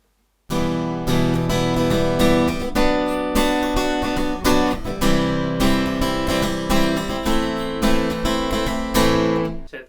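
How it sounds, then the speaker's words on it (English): Acoustic guitar strums the chorus pattern of a song, a steady down-down-down-up-down-down rhythm of ringing chords, close and alone after a brief silent start. "But our strumming pattern will sound like this."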